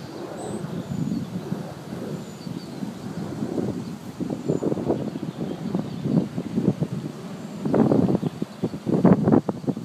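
Gusty wind roars and buffets steadily across a windy day while an Ares Gamma RC airplane fitted with a large propeller flies, the rumble swelling into stronger bursts toward the end, with no talking.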